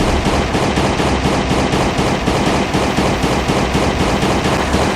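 Rapid automatic gunfire in the survival game Last Day on Earth: Survival during a boss fight, loud close bursts in an even rhythm, firing without pause throughout.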